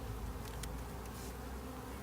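A dense, continuous buzz of many honey bees fills the air up close, steady and droning without pause, as a frame of bees is set into a nuc box during a hive split.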